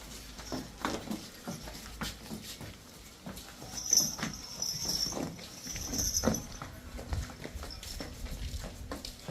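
Cow hooves clop irregularly on hard ground as the animals walk past at close range, with light background noise.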